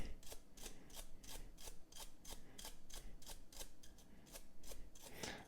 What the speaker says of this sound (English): find my nylon brush here, and I'm going to scrub